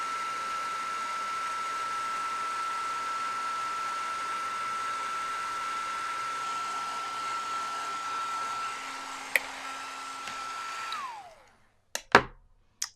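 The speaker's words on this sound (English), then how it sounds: "now I'm ready to melt it with my heat tool" A handheld heat tool blows steadily while melting gold embossing powder on a paper love card, a loud even whoosh for about eleven seconds before it switches off, followed by a few faint clicks and taps.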